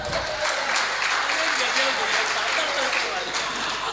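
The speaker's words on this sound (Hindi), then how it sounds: "बैठे हो तो बजाओ ताली।" An audience claps steadily and loudly through a Hindi comic poetry recital on stage, a dense continuous applause with no break.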